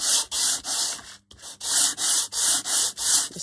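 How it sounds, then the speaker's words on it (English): A nail file rubbing across a napkin-covered junk journal cover in steady back-and-forth strokes, about a dozen rhythmic scratchy passes with one brief pause, close and clear with no talking. "It's just a nail file."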